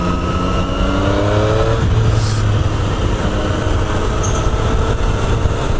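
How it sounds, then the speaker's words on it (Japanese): A Triumph Street Triple motorcycle engine revving on a test ride, its pitch climbing through rising harmonics before settling into a steady loud drone with wind and road rumble underneath. "なんかエンジンの吹き上がり方もちょっと違う気がするんですよね。"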